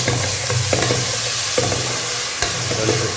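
Ginger-garlic paste frying in a pan for a village fish curry crackles in a loud, steady sizzle, with repeated spoon stirs and scrapes every half second or so, and no talk.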